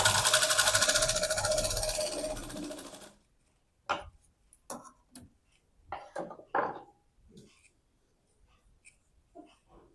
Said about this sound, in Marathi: इथे आपण डबल शिलाई मारून घेऊया